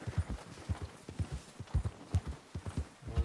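Horse hooves clip-clop in a steady, rhythmic gait, each footfall close and distinct, as the bronco Widowmaker is ridden in the Red Dead Redemption Online game, with no voices over the hoofbeats.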